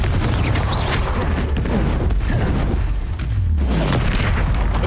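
Loud, continuous booming blasts from fire spells in the video game Hogwarts Legacy, with dense low rumble and repeated bursts running through the whole stretch with no gaps.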